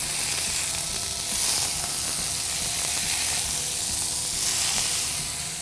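Large cod fillets searing in a very hot pan, a steady loud sizzle and hiss that holds without a break, with no voices over it.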